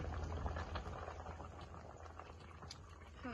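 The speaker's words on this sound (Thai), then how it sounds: "เดี๋ยวปลาลูกแกงหน่อไม้เฮากะเดือดเป็นทีเรียบร้อยเลยกำลังเริ่มเดือดแล้ว" A pot of fish and bamboo shoot curry coming to a boil, steady bubbling and hissing close by with a dense simmering patter throughout, no voices.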